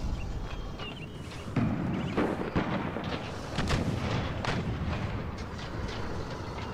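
Rumbling cannon artillery volleys in Empire Total War, a series of muffled booms rolling one after another at mid distance over a dense battle din.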